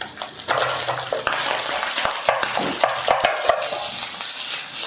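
A utensil stirs egg, carrots and rice in a sizzling frying pan, with steady frying hiss and repeated scraping and tapping strokes against the pan, close and fairly loud, no talking.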